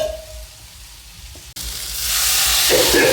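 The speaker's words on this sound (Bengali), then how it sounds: "ব্যাস, একটু নাড়াচাড়া করব" Potato curry with cumin powder sizzles and is stirred in a hot pan, steady frying hiss with scraping, briefly pausing then rising louder and brighter, with no voices.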